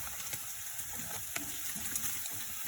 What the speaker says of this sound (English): 2 teaspoons of coriander seed, a teaspoon of red chili powder. Give it a stir.